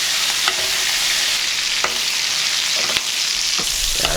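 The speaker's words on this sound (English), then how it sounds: "Lean the pan and just start basting." Rack of lamb sizzles steadily in a hot pan of butter as it is basted, a continuous close frying hiss with a few brief scraping clicks of the spoon against the pan.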